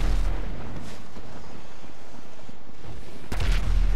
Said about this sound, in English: I blew up the tank and I died along with the tank